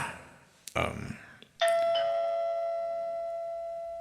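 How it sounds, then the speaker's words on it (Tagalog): A doorbell chimes loudly twice, its bright tone ringing out and slowly fading, after a short burst of voice and a thump. "At the doorbell ticket da."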